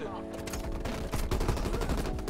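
Rapid gunfire from a ZRG 20mm sniper rifle in the video game Call of Duty Cold War, a dense burst of loud, close shots overlapping in quick succession.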